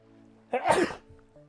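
A single short, sharp sneeze in the video game Chrono Cross bursts out abruptly, loud and close, in an otherwise quiet moment with a faint tonal hum in the background.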